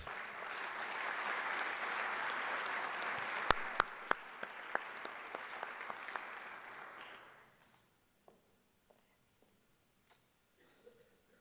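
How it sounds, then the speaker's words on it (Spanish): A crowd applauds steadily for several seconds, then the clapping fades out, leaving a few scattered, sharp claps in a quiet room. "Un fuerte aplauso para Mercedes de Freitas."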